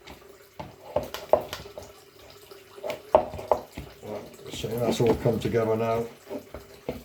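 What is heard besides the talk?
water running from tap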